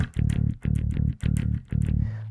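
Palm-muted bass notes from a riff, played as four tight chugging bursts in a steady rhythm, each a dense, dampened low thump, close and loud with no talk.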